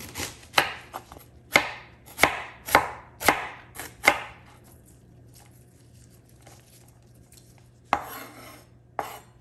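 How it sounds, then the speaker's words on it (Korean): A knife slices a quarter onion into thin strips on a cutting board, about seven sharp rhythmic chops, then a pause before two more cuts, close and clear. "양파는 4분의 1쪽을 채 썰어 주시고요"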